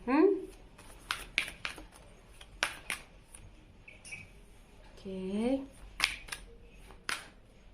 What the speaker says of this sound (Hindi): चलिए सारे कार्ड लेते हैं